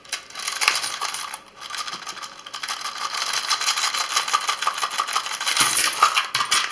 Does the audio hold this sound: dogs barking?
no